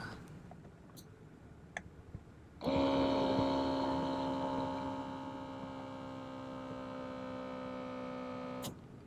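A steady electric motor hum of a power lumbar seat in a 2005 Ford Crown Victoria P-71 starts abruptly after faint ticks and clicks, runs for several seconds with a slight tonal shift, then stops.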